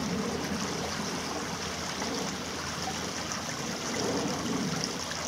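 The River Eridge flowing beneath a crossing, a dense, steady rushing and trickling of water heard close and continuous with no voices.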